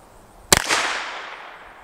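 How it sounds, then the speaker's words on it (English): A single sharp shot from a Henry Big Boy Brass rifle chambered in .357 Magnum, firing 158-grain cast lead, cracks loudly and then trails off into a long rolling echo outdoors. "158 grain cast, 357 Magnum. Out of the Henry Big Boy Brass."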